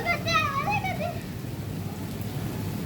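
Steady rain falls during a thunderstorm, a continuous broadband hiss that stays even throughout, with a voice speaking over it at the start.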